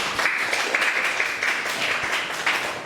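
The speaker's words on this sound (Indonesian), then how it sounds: "tepuk tangan untuk kelompok 2" A classroom of students claps for a presenting group, a brief, fairly close burst of many hands applauding steadily for a few seconds.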